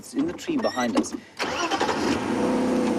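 A safari vehicle's engine cranks and catches, then settles into a steady idle rumble; someone talks over the start.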